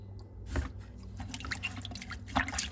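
Water dripping and trickling from aquarium prefilter sponges, eight-month-old Oase Biomaster foam being squeezed out by hand, giving close, irregular wet drips over a low background hum.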